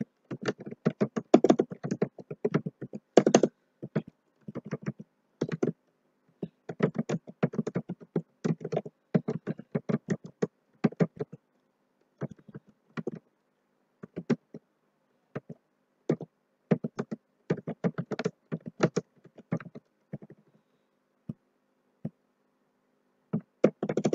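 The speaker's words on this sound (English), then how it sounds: "I will open Notepad. Here I will write simple text here." Text is typed in Notepad on a computer keyboard, with close, crisp key clicks coming in irregular bursts and short pauses, and no talking.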